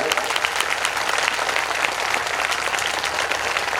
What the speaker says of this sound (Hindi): सभी संत, सभी महापुरुषों को आपका सबका स्वागत है और जोरदार तालियां से स्वागत।